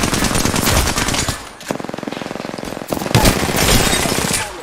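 Automatic gunfire in the Apex Legends video game, with rapid bursts of loud shots at close range, a short pause, then more sustained firing.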